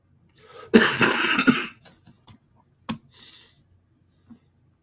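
A person coughs close to the mic, first a harsh burst of coughing lasting about a second, then a few smaller throat sounds and a single sharp cough in an otherwise quiet room.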